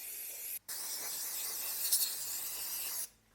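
A spray is directed onto the valves of a forged engine's cylinder head to wash off lapping paste. It gives a steady, close hiss that breaks off briefly and then cuts out, with no talking.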